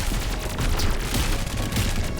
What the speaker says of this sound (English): Our Spore cannon just killing stuff.